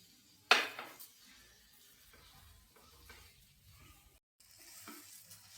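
Potato pieces dropped into a pan of frying tomato masala give a sharp initial sizzle, then soft scraping and stirring of a spoon against the pan, fairly quiet and close.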